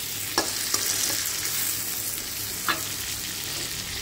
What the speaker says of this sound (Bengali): তো চলো টমেটোটা দিয়ে ভালো করে এবার নাড়িয়ে ঢাকা দিয়ে আমি এটা ভেজে নেবো